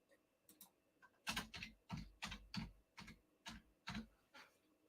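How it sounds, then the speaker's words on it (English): Rapid bursts of typing on a computer keyboard, close and clear, the key clicks coming in short uneven clusters with brief pauses between, no voices over it. "I'm a terrible typer."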